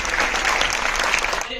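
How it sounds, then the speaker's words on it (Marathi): A theatre audience at a film screening about Samarth Ramdas gives loud, sustained applause, dense steady clapping that fills the room throughout. "सगळ्यांसाठी जोरदार टाळ्या"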